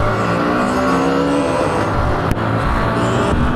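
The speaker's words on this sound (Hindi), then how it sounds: "लॉन्च करते हैं बाइक को।" Hero Xtreme 125R motorcycles, old and new versions, launching side by side in a drag race, engines revving hard in a loud sustained roar with rising pitch, close by and continuous.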